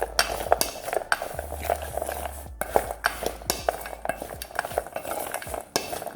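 Frozen blueberries being mixed with a spoonful of tapioca flour in a bowl, giving irregular close scraping and clinking strokes in an uneven rhythm against a quiet kitchen background.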